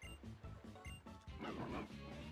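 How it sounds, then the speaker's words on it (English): A big dog Pokémon in the video game Pokémon Ultra Sun gives a burst of short, loud, close barks and yips, mixed with game sounds and crashing noise. "Had to let out my trusty big dog."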